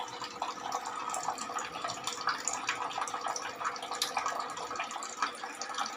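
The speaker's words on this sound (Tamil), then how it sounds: "தண்ணி ஊற்ற ஆரம்பிச்சது பார்த்தீங்களா வேகமாக" Water pours fast and steadily from an RO water purifier after its membrane filter cleaning, a continuous close splashing stream with no talk over it.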